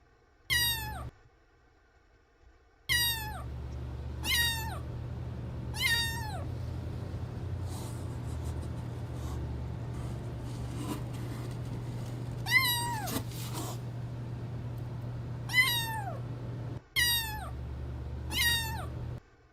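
A young pet cat, a kitten on its first day home, meows repeatedly in short high calls, a few bursts close together then pauses, over a steady low hum, with no talking.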